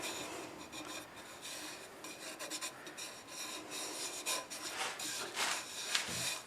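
Thin end-grain wood staves being turned on a lathe give a continuous raspy, scraping hiss with uneven surges, close by and loud, with no voices.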